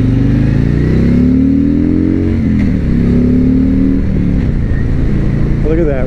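A Harley-Davidson Freewheeler 114 trike accelerates on the road, its loud, steady engine drone rising and falling in pitch through gear changes, heavy wind rumble throughout.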